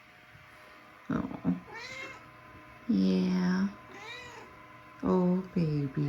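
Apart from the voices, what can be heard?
three-legged cat meowing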